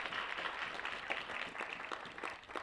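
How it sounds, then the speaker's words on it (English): Steady applause from a dialogue audience as a panelist is called up, continuous dense clapping held at an even level throughout, sounding somewhat distant. "A round of applause, please."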